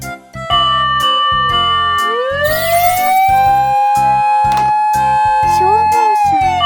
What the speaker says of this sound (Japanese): 消防車。